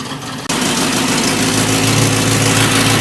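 A Ford F100 XLT's 351 Cleveland V8, running on gas with a bad exhaust leak, kicks in after a brief moment and idles loudly and close by in a steady, rough, low rumble.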